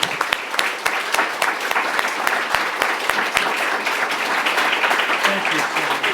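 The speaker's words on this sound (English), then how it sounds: "So let's give them a round of applause" A room of people applauding at a September 11th remembrance symposium, dense steady clapping with a few sharp individual claps standing out near the start, continuing evenly throughout without dying away.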